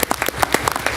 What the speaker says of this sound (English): let's applaud our teachers